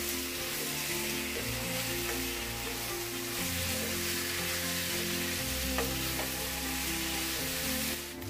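Onion sautés with crushed ginger, garlic and green chilli for chicken biryani, giving a steady, moderate sizzle that runs evenly throughout with soft background tones underneath.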